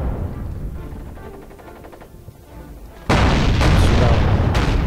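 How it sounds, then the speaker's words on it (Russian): A heavy artillery boom from a ZiS-3 divisional field gun in a World War II video game bursts in after a stretch of low rumble and clatter, followed by a loud sustained roar and further blasts. "Вызываем дивизионную пушку ЗИС-3."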